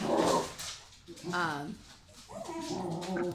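A dog yips and whimpers in a few short bursts, close and fairly loud, alternating with brief pauses during a tabletop role-playing session.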